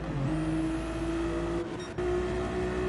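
Race car engines in a racing video game at Laguna Seca, Ferraris and other cars, a steady droning engine tone holding pitch with a brief dip partway through, loud and continuous with no talk.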